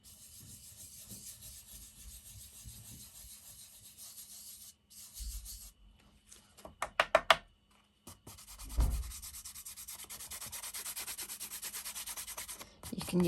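Hand rubbing over a paper card to add gold touches, a soft, close scratchy scraping in short strokes, quiet at first and then a steadier rasping run toward the end, with no talking.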